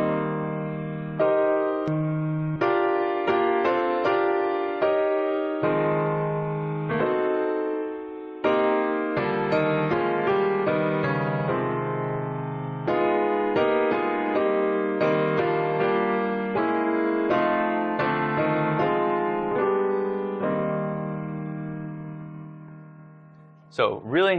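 A piano plays a song in full block chords with a big band feel, moving through rhythmic chord hits and sustained harmonies, ending with a brief sound at the close.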